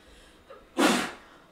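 A single sharp sneeze bursts out after a short intake of breath, near and loud, fading quickly into quiet.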